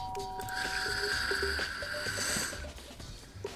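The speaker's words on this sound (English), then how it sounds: "You press the doorbell." A doorbell chime in the Danganronpa: Trigger Happy Havoc video game, a sustained electronic tone ringing for a couple of seconds over light game sounds and clicks, then fading out.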